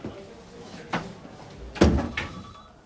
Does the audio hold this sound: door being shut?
yes